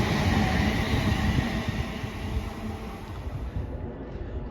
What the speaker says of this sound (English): There's 350-250 on the 1045 London Northwestern Rail service from MKC to London Euston.